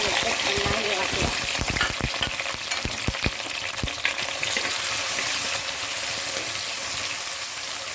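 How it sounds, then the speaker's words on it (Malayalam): Tomato, ginger and garlic sizzle in hot oil, with a scrape of stirring at the start, then a steady loud frying hiss that continues throughout. "എണ്ണ നന്നായി ചൂടായി വരുമ്പോൾ അതിലേക്ക് തക്കാളിയും ഇഞ്ചിയും വെളുത്തുള്ളിയും കൂടി ചേർത്ത് കൊടുത്ത് നന്നായി ഇളക്കുക."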